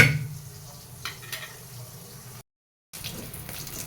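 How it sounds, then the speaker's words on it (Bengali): A whole fish frying in hot oil in a home kitchen pan, a steady low sizzle with a few brief clatters, cut by a short moment of silence before the frying noise resumes. "মাছটা ভাজি হয়ে গেছে"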